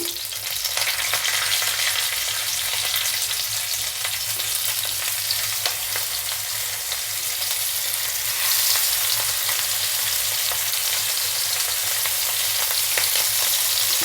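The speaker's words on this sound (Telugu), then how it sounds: "మసాలా అంతా పట్టించుకున్న ఫిష్ ఫ్రై ఉన్నాయి కదా ఇప్పుడు ఒక్కొక్కటిగా ఇందులో వేద్దామా" Masala-coated fish pieces frying in oil, a loud, dense, continuous sizzle and crackle that holds steady throughout, close up with no voices.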